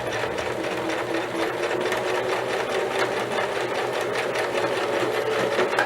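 A sewing machine runs steadily at speed, its motor hum and rapid needle clatter continuous and close throughout, with no talking.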